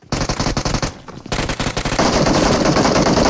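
Rapid automatic gunfire from the player's own weapon in a shooter video game, loud and close, firing in dense bursts with a brief gap and then a sustained stream.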